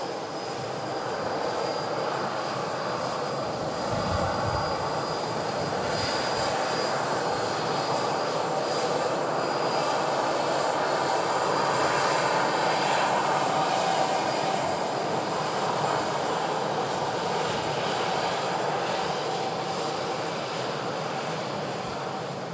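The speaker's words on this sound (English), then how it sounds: "Qatar Dreamliner crossing the active runway for Doha." A Qatar Airways Boeing 787 Dreamliner taxis across the active runway at Manchester Airport, its jet engines a steady, even roar heard from a distance that holds throughout with little change.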